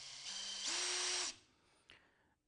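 Bosch GDX 18V-200C Professional cordless impact driver running briefly, a whirring motor that rises in pitch as the trigger is pressed and then stops, followed by a single soft click.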